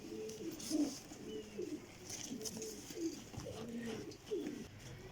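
Pigeons coo in a series of soft, rolling calls repeating every second or so, close by and fairly quiet, with no voices.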